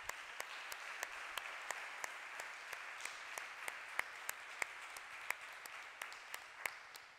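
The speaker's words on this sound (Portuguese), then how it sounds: "Você pode aplaudir a Jesus?" A church congregation applauds steadily at a distance, a dense wash of clapping with sharper individual claps popping out at a regular beat.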